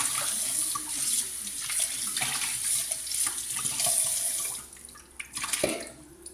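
Tap water running steadily into a sink while coriander leaves are washed, a close continuous gush with small splashes, easing off near the end.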